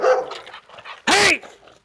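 Dogs at a home, including an Amstaff, bark in one loud, close burst of several overlapping yaps, with quieter vocal sounds before and after.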